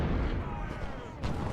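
Artillery fire in the Civil War strategy game Ultimate General: Civil War, a dense continuous rumble of cannon booms and gunfire throughout, with a sharper burst near the end.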